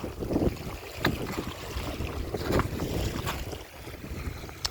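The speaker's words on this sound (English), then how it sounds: "I apologize once again if it's windy." Wind gusts buffet the microphone in low rumbling surges at Crescent Beach, Ontario, with occasional sharp bursts over a steady rushing background outdoors.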